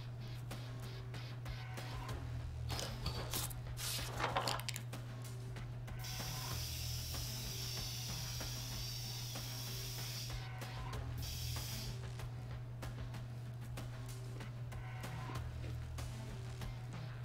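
In inFAMOUS Second Son, an aerosol can sprays stencil art with long hissing bursts and a few rattling shakes over a steady low game hum, fairly soft and with no voices.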